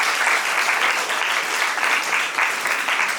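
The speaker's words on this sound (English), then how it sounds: "A big round of applause to each and every delegate and journalist present here." Audience applause for delegates and journalists closing a Model UN press conference in Nepal, a steady dense wash of many hands clapping at once, loud and continuous without a break.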